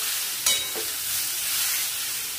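Cumin, dried chillies and whole garam masala hit hot oil with a sharp splash, then settle into a steady, fairly faint hiss and crackle that carries on alone.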